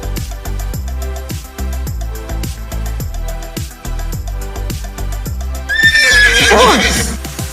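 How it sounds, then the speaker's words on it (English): A horse gives a loud, high whinny late in the sequence, a shrill descending neigh standing out clearly over a steady, rhythmic musical backing in an animated farm-animal lesson. "Horse."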